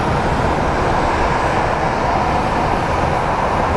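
American Airlines 2016 rolling out at Phoenix Sky Harbor, a loud, steady broadband jet roar that holds constant through the whole moment, with no voices.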